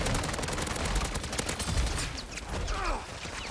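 Rapid gunfire from an automated sentry gun and a shotgun in Call of Duty MW3 Zombies, loud dense bursts of shots filling the first two seconds, then thinner scattered shots with mechanical clatter and game effects.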